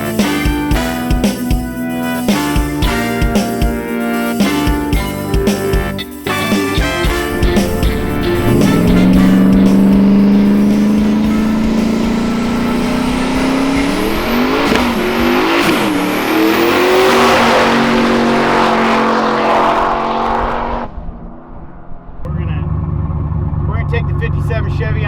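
A 1957 Chevy is driven in laps on a Ferrari race track, its engine revving loudly and rising in pitch through acceleration, then cutting back, with tire noise and a voice talking over parts of it.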